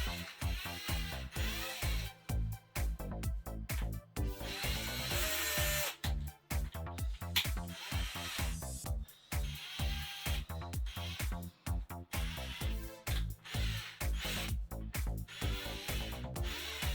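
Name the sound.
drilling excess plastic off RC shock part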